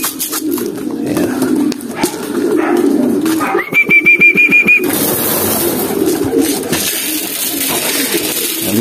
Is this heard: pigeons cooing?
yes